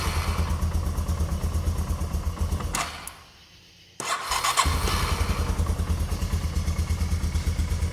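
A cheap four-wheeler ATV engine idles with a steady, close, even putter. It cuts out for about a second and then picks back up to a smooth idle.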